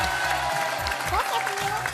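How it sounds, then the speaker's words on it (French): A studio audience on the French game show In Ze Boîte applauds a contestant, dense continuous clapping with music playing underneath. "on va l'applaudir bien fort quand même"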